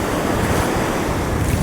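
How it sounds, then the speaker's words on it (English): Small, gentle waves on a calm Pacific ocean wash in a steady, broad surf hiss, with wind buffeting the microphone loudly throughout and no voices. "Ocean is just really calm today. Really small waves."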